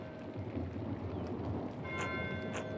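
Steady rain hisses in the video game Pentiment, a continuous dense wash of falling water, with faint bell-like tones entering near the end.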